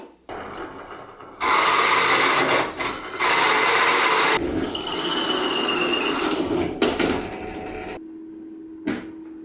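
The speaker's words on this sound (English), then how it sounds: "I'm going to drill out a couple of holes using the pillar drill and some hole saws." A pillar drill fitted with hole saws cuts holes through material in a workshop, coming in loud bursts of grinding, whining drilling between short pauses, with the motor spinning down near the end.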